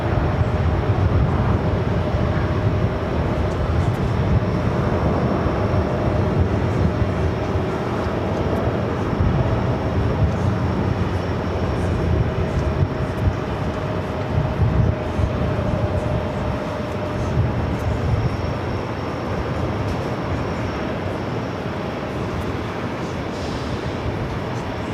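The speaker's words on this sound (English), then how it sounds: "We got that all Dreamliner now taking off." Boeing 787 Dreamliner taking off from runway 13 right at JFK in picking-up wind, a long steady engine roar with a low rumble and a faint whine, constant and fairly loud throughout.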